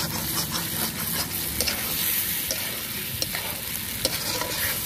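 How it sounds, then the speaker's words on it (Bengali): Meat curry, a chicken korma, stirred as it fries in oil in a pan, a steady close sizzle with scraping stir strokes and small clicks throughout, no voices. "ঘন ঘন নাড়া দেবেন যাতে লেগে না যায়।"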